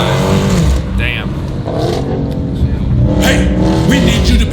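A Dodge Hellcat with a new loud aftermarket exhaust revving, a deep continuous roar that swells and rises, loud and close, with voices talking over it.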